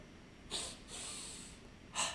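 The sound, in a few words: double breathing kriya breaths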